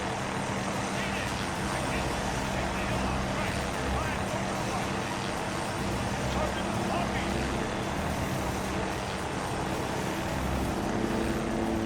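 A helicopter in the military video game ARMA 3 drones in, its engine and rotor noise a continuous, heavy rumble that holds steady and loud amid other game sounds.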